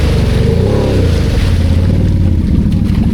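A loud, close ATV engine revs hard through deep mud at a mud-riding park, its droning pitch climbing and dipping over a constant wash of churning, splashing noise, with no voices.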